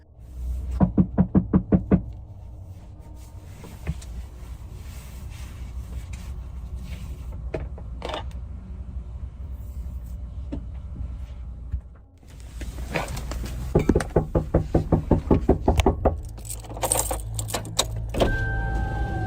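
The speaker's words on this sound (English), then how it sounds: "Someone's knocking on her van." Knocks on the side of a parked van in a hotel parking lot at night, a quick burst of sharp raps near the start and another run of knocks later, close and loud over a steady low hum.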